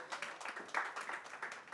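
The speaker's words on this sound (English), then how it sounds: "a huge round of applause" Applause rises from an audience at the launch of filmmaker Rakesh Omprakash Mehra's first book, held with Mrinal Thakur: a dense, steady wash of many hands clapping with no pause through the short stretch.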